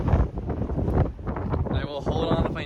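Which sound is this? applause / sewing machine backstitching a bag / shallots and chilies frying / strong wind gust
strong wind gust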